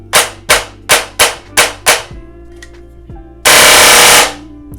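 Airsoft rifle running on an 11.1 volt LiPo battery, six sharp semi-auto shots in quick succession, then a brief full-auto burst of about a second, loud and close.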